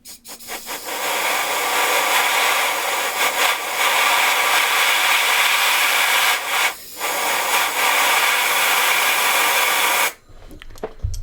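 Compressed air blasts steadily against an arrow with offset fletching set on a spinner, a loud continuous hiss lasting about ten seconds with brief dips, then cutting off abruptly.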